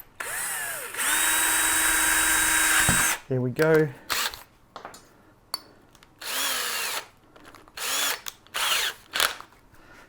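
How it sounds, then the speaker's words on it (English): A power drill whirs steadily for about two seconds while pre-drilling a pilot hole during a tool-making build. It cuts off with a short mechanical rattle, and then someone speaks in short bursts. "I'm just going to pre-drill this hole a bit."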